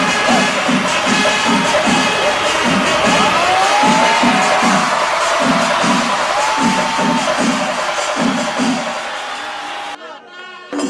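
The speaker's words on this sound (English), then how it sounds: "As he gracefully walks in, he receives thunderous cheers and applause" A large festival crowd cheers and roars continuously at Thrissur Pooram as the tallest captive elephant walks in, with steady rhythmic drumming beneath the din until it drops away near the end.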